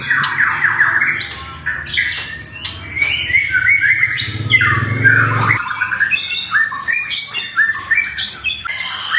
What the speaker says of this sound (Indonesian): ini Mang Dani lagi ngumbar burung